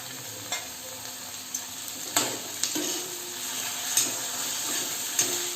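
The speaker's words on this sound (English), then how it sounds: "the onion is getting cooked. Meanwhile I am adding chopped" Onion with chopped tomato frying in a pan for kadai paneer, a steady close sizzle broken by several sharp scraping stirs and clicks of the spatula against the pan, with no talking.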